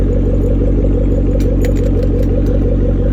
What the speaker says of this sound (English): That's a Borla exhaust that you hear.